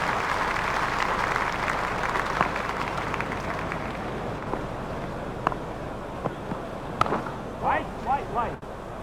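A cricket crowd at an England versus India one-day international applauds Sehwag's fifty, a broad, distant wash of clapping that slowly thins while a commentator's voice cuts in near the end.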